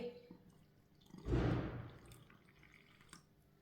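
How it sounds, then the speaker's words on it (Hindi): Water is poured into a bowl of gram flour batter mixed with salt and ajwain, a single short splashing pour that swells and trails off, close and fairly quiet, with no talking. "पानी डाल लेंगे।"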